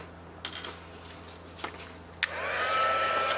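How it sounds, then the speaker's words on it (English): A heat tool for gilded leafing switches on with a sharp click and settles into a steady, close hair-dryer-like roar of blowing hot air, preceded by a few faint handling taps. "I'm going to go ahead and turn on my heat tool."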